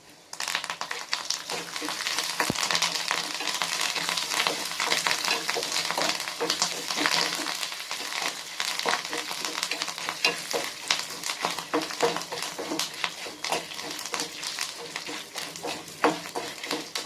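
Curry leaves crackle and sizzle in hot oil as a spoon stirs them around a pan, a steady dense frying hiss with scraping strokes running throughout, close and fairly loud, no voices.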